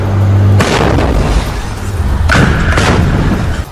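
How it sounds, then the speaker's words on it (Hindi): Shoulder-fired rocket explosions in a Gaza combat zone, two loud booming blasts with a sudden broadband burst near the start and another about two seconds later, over a constant heavy rumble. "उसके रॉकेट दागते ही एक और कान फाड़ देने वाला धमाका हुआ"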